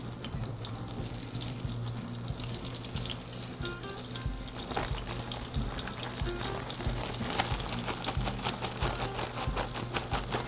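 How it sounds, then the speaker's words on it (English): Flour-dusted stew meat laid in a single layer in hot grease in a pan for beef tips. Dense, steady frying sizzle comes with crackles and occasional clatter over a low hum, with no talking. "My grease is hot. So now I'm just going to drop my stew meat in a single layer all the way across this pan"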